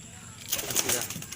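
Pigeons in a loft, heard as a brief rustle and flutter of wings over a soft background, close by and lasting just a moment.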